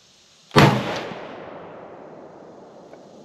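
A single loud, sharp deer rifle shot from a rifle fitted with a Vortex Crossfire 3-9x40mm scope, followed by a long, fading echo trailing off over about two and a half seconds.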